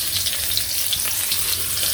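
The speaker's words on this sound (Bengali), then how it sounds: "তেল দিয়ে দিলাম তেলের মধ্যে পেঁয়াজ কুচি দিয়ে দিলাম" Chopped onions fry in hot oil, hissing with a steady, close, even sizzle that carries on without a break.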